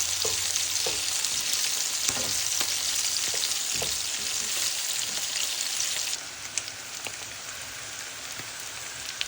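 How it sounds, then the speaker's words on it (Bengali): Boal fish pieces frying in hot oil with turmeric and salt give a dense, continuous crackling sizzle, close and loud, with a few faint clinks, easing slightly toward the end; no one speaks. "আর এদিকে কিন্তু আমার মাছ ভাজাটাও প্রায় হয়ে এসেছে"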